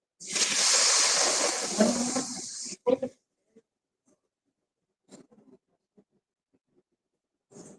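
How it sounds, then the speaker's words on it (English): Liquid poured into a pan while cooking, a continuous hissing splash for nearly three seconds that stops abruptly, followed by a few faint clinks and brief kitchen sounds. "I'm gonna pour it a bit."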